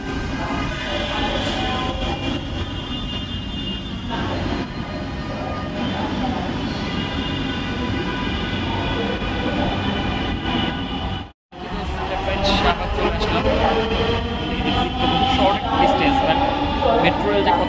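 Passengers ride a Dhaka metro rail train between stations, a steady rumbling roar of the moving carriage with rail noise and a brief dropout partway through, continuous and close.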